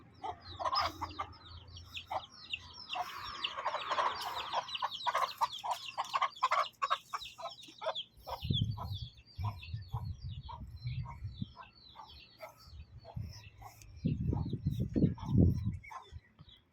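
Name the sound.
chickens clucking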